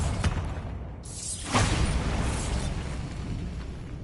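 A Bombarda blast spell from Hogwarts Legacy lands with a sharp whooshing burst, followed by a loud crackling boom that rolls on and fades over a few seconds.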